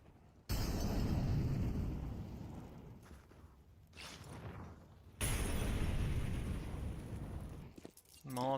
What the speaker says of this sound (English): Flashbang to support.